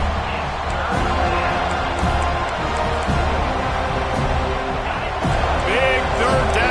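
A football stadium crowd roars behind the home defense on a big third down, steady loud cheering and whoops with a commentator talking over it.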